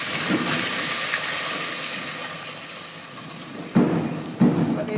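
Milk boiling in a pot for rice payasa gives a steady, close bubbling hiss, with a couple of brief louder clatters near the end.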